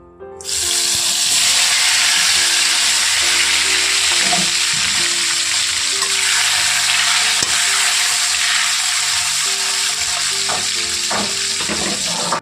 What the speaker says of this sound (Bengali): এই যে এখন পটল আলুটা কেটে রেখেছি তো ওগুলো ওই তেলেতে আমি ভেজে নেব